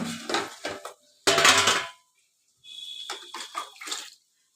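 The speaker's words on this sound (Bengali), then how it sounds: "জল ঢেলে দিচ্ছি।" Water is poured into a cooking pot of thin fish curry with potatoes, made with bhola fish, giving bursts of splashing and clattering against the pot, with a brief pause between pours.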